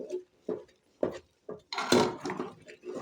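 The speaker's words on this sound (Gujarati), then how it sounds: "આવી રીતના આપણે સરસ હલાવતું રહેવાનું, લોટના ગાંઠા ના રહેવા જોઈએ એવી રીતના આપણે હલાવી લેવાનું" Wheat flour dough for khichu is stirred in a pan, making rhythmic scraping strokes about every half second, close and clear, with a longer rough scrape in the middle.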